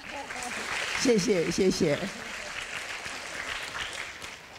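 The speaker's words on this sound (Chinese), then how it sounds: "我们给陈奕迅老师掌声好不好？" Applause from a university lecture audience for a guest rises around a man's brief thanks and continues as a soft, even patter afterward.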